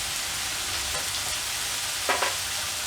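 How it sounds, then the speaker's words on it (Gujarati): Turmeric going into a sizzling valor bean and eggplant curry in the pan, a steady close hiss of frying with a couple of brief stirring scrapes near the end. "હવે આપણે એમાં હળદર નાખી દઈશું"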